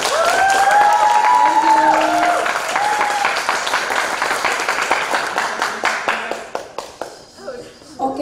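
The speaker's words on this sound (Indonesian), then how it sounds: "Boleh dikasih tepuk tangannya nggak nih?" Audience applause fills a school student council (OSIS) upgrading event, a loud, steady burst of clapping from the crowd that tapers off toward the end, with a voice speaking over the start.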